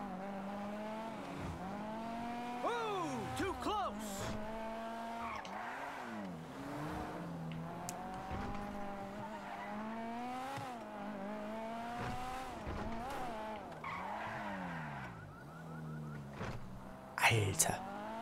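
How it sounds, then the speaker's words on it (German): A video-game car engine revs up and down repeatedly, its pitch rising and falling through gear shifts, loud and close, with occasional voices underneath. "das Auto ist ja mal ein Wahnsinn vom Sound her"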